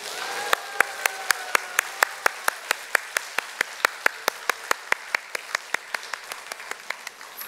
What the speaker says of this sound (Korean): 여러분이 박수와 환호로 그렇게 해주시길